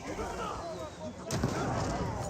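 Rocket fire and impacts in a real-time strategy battle in Age of Empires 4, a rumbling spread of blasts with a sharp burst midway, moderately loud under game background noise.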